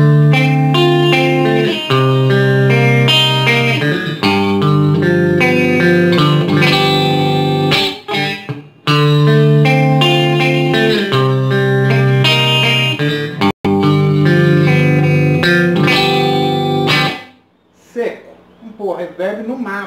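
An electric guitar played through a Marshall DSL 20H amplifier with reverb rings out in sustained chords and melodic lines, loud and close, with brief breaks and a reverberant tail fading at the end.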